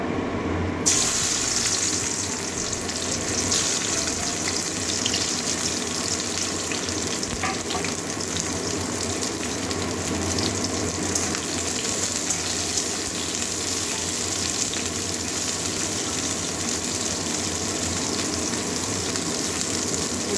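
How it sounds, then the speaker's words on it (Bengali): Bitter gourd slices fry in hot oil with a strong, even sizzle and crackle that holds steady and close for the whole stretch, with no speech. "তেল গরম হয়ে গেছে এবারে উচ্ছেগুলো ভেজে নেব হালকা"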